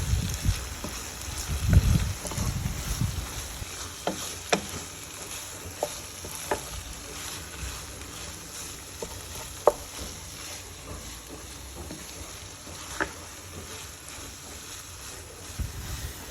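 Vermicelli, drained and snipped into short lengths with scissors, stirred into a savoury filling in a frying pan: a steady low sizzle with scraping and clinking of the spoon against the pan, closer and busier at the start, then quieter with occasional sharp taps.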